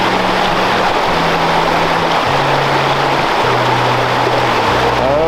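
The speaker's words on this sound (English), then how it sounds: "I don't want to cross right beside that waterfall." Steady, loud rush of a mountain stream and waterfall in the Smoky Mountains, a dense continuous roar of falling water with no break, heard close up and alone.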